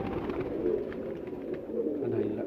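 Several pigeons coo in a continuous low, layered murmur at moderate loudness, the calls blending into a steady background without clear gaps.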